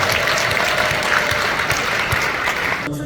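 A seated audience claps together in a Korean business presentation hall, a dense, even burst of applause lasting about three seconds before cutting off abruptly, loud and close.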